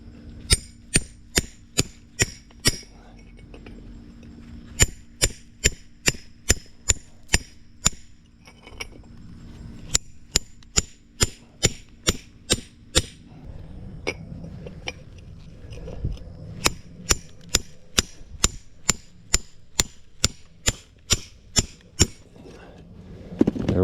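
A hammer taps to score a large geode, giving sharp, bright clinks in quick rhythmic runs separated by short pauses, close and fairly loud over low background noise.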